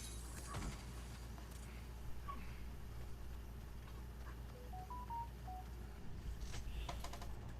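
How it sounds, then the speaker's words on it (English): A phone notification chimes during a God of War Ragnarok game session: a short, faint rising sequence of electronic tones partway through, sitting low beneath steady game ambience and background noise. "That's my phone that I need to figure out how to mute during streams now."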